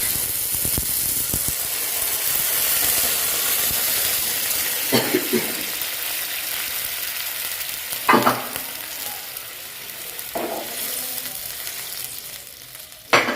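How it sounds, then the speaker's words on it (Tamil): Tomato, onion and garlic sautéing together in a pan, a steady close sizzle punctuated by several spoon scrapes and clatters against the pan, with no speech. "தக்காளி பழம் வெங்காயம் அது உள்ளி எல்லாமே சேர்ந்து வடிவாக மாந்தி வதங்கி"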